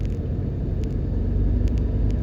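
A car drives along Washington Boulevard leaving Kingston, Jamaica, with a steady low road rumble and engine drone. It runs continuously at moderate level, a few faint clicks sit on top, and no one speaks.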